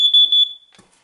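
A carbon monoxide detector in a house gives its low-battery warning: a loud, piercing electronic beep pulsing rapidly for about half a second, then a brief faint rustle.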